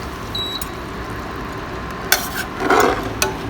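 Sauce being stirred and reheated in a pan, a soft scraping stir with light sizzle that swells briefly near the end, amid a steady low kitchen background hiss.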